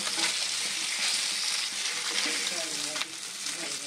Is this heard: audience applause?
no